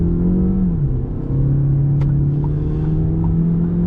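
Fiat Toro Freedom T270 pickup accelerating hard in sport mode, a loud steady engine drone whose pitch dips briefly then holds as it pulls, with no talk over it.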